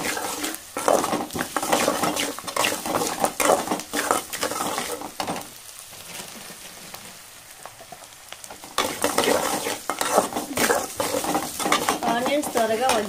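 Food being stirred in a pan after rock salt is added, with steady scraping and clattering of a utensil against the pan over a light sizzle, quieter for a stretch in the middle, then busy again.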